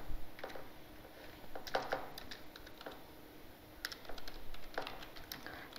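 Typing on a computer keyboard while entering a C++ program in a school computer lab, heard as irregular bursts of quick, close key clicks with short pauses and no talking.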